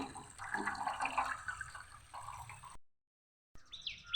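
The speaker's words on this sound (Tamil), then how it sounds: "நம்ம இங்கேயே கழுவிக்கலாம் அவரைக்காய்." Freshly harvested broad beans being washed in water outdoors, with steady splashing and sloshing close by, a brief silent gap, then more trickling water at the end; no talk.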